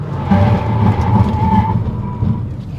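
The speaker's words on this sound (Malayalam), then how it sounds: "ഈ ഒരു പോയിന്റിൽ ഇപ്പോൾ നമുക്കൊന്ന് ബ്രേക്കിംഗ് കൂടി നോക്കാം." A 2024 Hyundai Alcazar SUV braking hard, heard as a loud, steady drone of road and tyre noise inside the cabin with a faint tonal whine, no voices.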